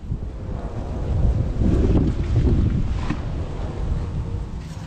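Strong wind buffets the microphone in a steady, heavy roar with low rumbling gusts; no voices.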